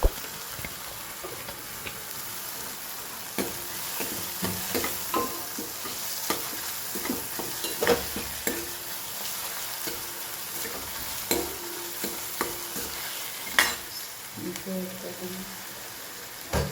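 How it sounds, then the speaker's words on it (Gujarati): Vegetables sautéing in a hot pan with onion and chopped ingredients, a steady soft sizzle broken by stirring scrapes and clicks of a spoon, close and fairly quiet throughout. "સોતે થવા દઈએ"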